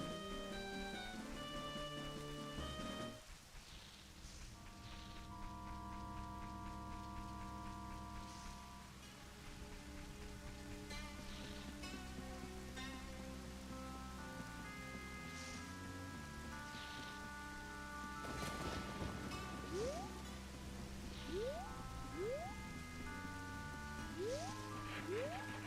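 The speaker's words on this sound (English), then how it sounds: "Oh, it's raining." Rain falls steadily in the Nintendo game Majora's Mask, a soft constant hiss mixed under looping melodic game music with short rising chirps near the end.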